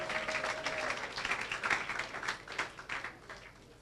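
Congregation applauding during a church service, a steady wash of many hands clapping close by for the whole stretch, with no voices standing out above it.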